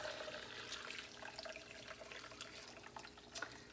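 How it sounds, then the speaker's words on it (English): Homemade beef bone broth with bones and vegetables poured and strained, a quiet continuous trickle and splash of liquid with small irregular drips, close and soft, no talking. "let's go ahead and finish catching all of this really good bone broth"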